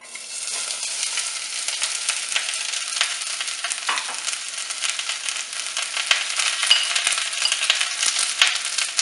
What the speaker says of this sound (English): we're going to gently fry off the onions